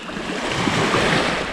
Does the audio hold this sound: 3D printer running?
no